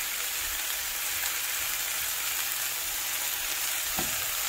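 Italian sausage fries in a skillet with a steady, close broadband sizzle and faint stirring scrapes, no talking, holding an even level throughout.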